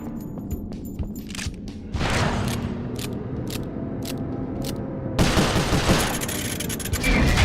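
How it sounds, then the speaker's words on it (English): Gunfire in the video game Sly Cooper: Thieves in Time, with rapid sharp shots crackling in bursts over a mechanical background, growing denser and louder toward the end. "Wow, nice shooting."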